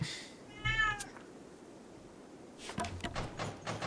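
A cat meows once briefly, fairly close and moderately loud, followed by a stretch of quiet room tone and later some clattering knocks.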